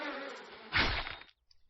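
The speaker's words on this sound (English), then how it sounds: "He calls the bees." A swarm of bees from the video game 7 Days To Die, a dense droning buzz that swells sharply partway through and then cuts off, about a second and a half, close and alone.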